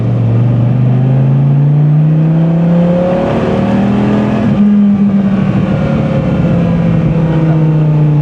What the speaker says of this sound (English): I want you to hear the pops for the exhaust.